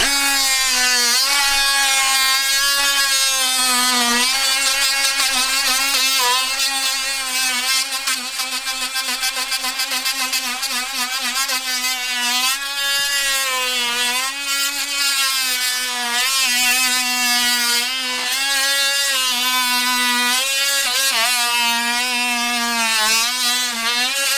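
DeWALT 12V Extreme and Milwaukee M12 Fuel oscillating multi-tools fitted with Diablo clean wood blades buzz steadily and loudly while cutting wood, a continuous close motor whine that wavers slightly in pitch.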